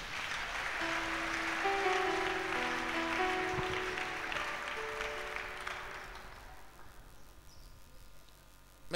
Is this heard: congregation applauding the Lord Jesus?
yes